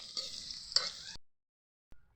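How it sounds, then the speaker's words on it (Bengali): Dal ingredients sizzle and get stirred in a hot pan while browning, a bright hiss with scraping strokes that cuts off abruptly, then a short silence before a brief burst of sizzling returns. "চলুন ভালো করে একটু লাল লাল করে ভেজে নেব"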